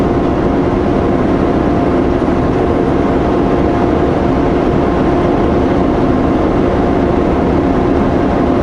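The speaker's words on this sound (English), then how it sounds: "That is a really long train." A long freight train rumbles past on the prairie near Portage La Prairie, a steady, dense low roar that stays constant and loud throughout with no breaks.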